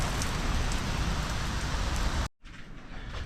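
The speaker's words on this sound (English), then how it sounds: "It's raining a little bit." Steady rain pouring down hard, a dense hiss of drops on surfaces, then a sudden cut to a softer, lighter patter.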